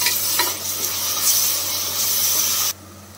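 Small onion paste fries in a pan with a loud, continuous close sizzle and hiss, stirred now and then, cutting off abruptly near the end.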